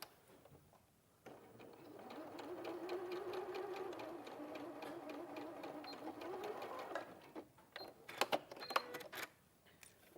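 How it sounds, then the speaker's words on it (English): A domestic sewing machine stitching fabric runs in a steady fast whirring burst of several seconds, close and clear, then stops, followed by a few louder mechanical clicks and knocks as the fabric is handled. "So this time, I'm literally going to sew"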